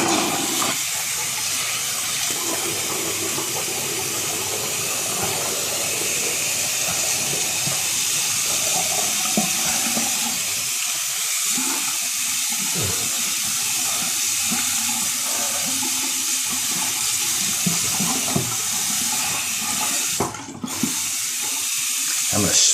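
A bathroom tap runs steadily at close range to rinse off after a shave, a continuous broad hiss of flowing water lasting throughout with a brief interruption near the end.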